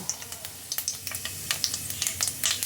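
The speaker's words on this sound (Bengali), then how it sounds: "তেলটা গরম হয়ে গেছে এবার আমি এই তেলের মধ্যে ফোড়নগুলো দিয়ে দেব প্রথমেই দিয়ে দিচ্ছি গোটা জিরে তেজপাতা" Whole cumin seeds and bay leaves sizzle in hot oil as a tempering for a vegetarian Kashmiri stuffed aloo dum, with steady close crackling and a quick run of sharp pops and spits.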